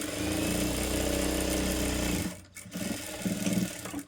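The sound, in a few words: sewing machine stitching a blouse side seam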